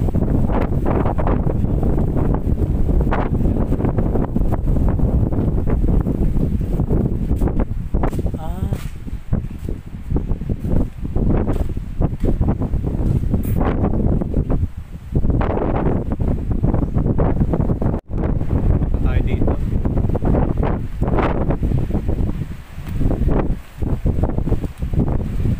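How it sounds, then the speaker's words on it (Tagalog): Strong wind batters the microphone on a high rocky hilltop near an abandoned palace, a heavy, continuous low roar with gusty surges throughout, while people talk faintly underneath. "Yung sobrang lakas ng hangin"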